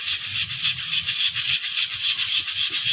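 Ginger-garlic paste and onion fry in hot ghee, giving a loud, steady sizzle and hiss with no talk over it.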